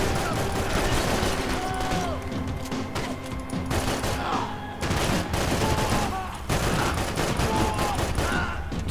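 Dense, sustained gunfire from the video game Max Payne 3 crackles through nearly nine seconds of loud battle noise, with overlapping shots and low rumbling effects.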